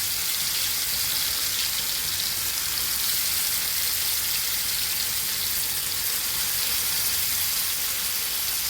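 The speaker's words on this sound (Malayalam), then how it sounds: "എല്ലാതും വറുത്തെടുക്കാണ്." Fish fries in a pan of oil with a steady, unbroken hiss of sizzling that holds at an even level throughout, close by and with no voices.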